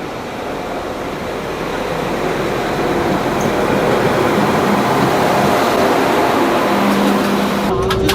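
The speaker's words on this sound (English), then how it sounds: "Train should be here any second because the train going the other way has just left." A train pulls into a station in Wales, its rumble swelling from a distance into a loud, steady roar with a rising tonal whine near the end.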